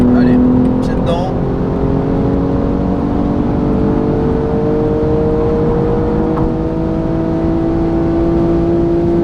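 A car pulls hard at full throttle on a German autobahn, its engine note climbing steadily and loudly under the cabin noise, with a short burst of voice near the start.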